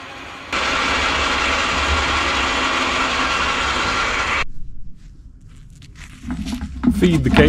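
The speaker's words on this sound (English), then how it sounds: "The live deck on this model is raised and lowered with an electric winch" An electric winch on a Timberwolf Pro HD XL firewood processor's live deck unspools cable with a loud, steady whirring drone that cuts off abruptly, followed by quieter mechanical clanks and shuffling.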